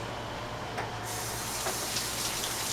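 Water from a kitchen tap runs steadily while hands are rinsed under it, giving a continuous close hiss and splash that brightens partway through as the flow shifts, with no talking.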